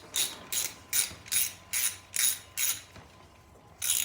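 Ratchet wrench clicking in short bursts while a carburetor bowl is taken off a Johnson 130 outboard motor, seven quick ratcheting strokes in a steady rhythm with a pause before the last, close and clear with no talking.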